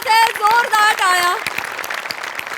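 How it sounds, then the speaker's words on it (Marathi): A lively comedy-show crowd breaks into applause, at first under a loud sustained voice, then thinning into a steadier patter of clapping for the rest. "जोरदार टाळ्या"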